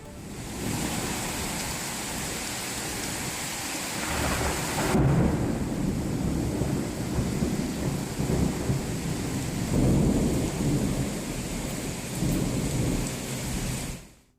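Heavy rain pours down in Hyderabad with thunder, a dense steady downpour hiss joined by deep rolling rumbles that swell midway and again later, fading out at the close.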